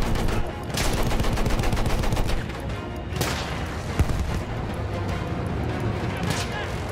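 Battlefield 1 combat rings with loud bursts of gunfire, rapid automatic rattles and heavy booms over a constant din of battle, with sharp shots breaking through at intervals.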